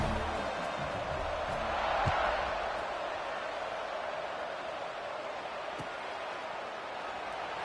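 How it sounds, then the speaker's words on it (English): Crowd buzz from a college football video game, a steady broad roar of stadium noise with a slight swell near the start and a few faint thumps, continuous throughout. "this crowd is buzzing after that last score"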